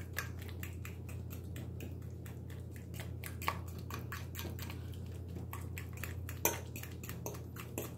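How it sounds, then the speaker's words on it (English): A fork mashes bananas by hand for muffin batter, giving a quick, steady run of faint clicks and taps against a bowl over a low hum. "I'm just using a fork to mush that around."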